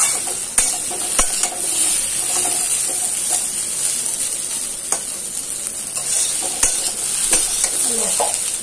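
Bitter gourd and potato pieces sizzle and hiss steadily while frying in a pan, with repeated scraping stirs and clinks from a utensil throughout.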